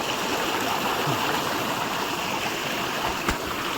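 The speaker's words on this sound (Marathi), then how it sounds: "इकडे हे पहा पाणी वाहू राहिलं" Water runs across open grazing land after heavy rain, a steady broadband rush like a small stream, close and continuous with no talk and one brief knock near the end.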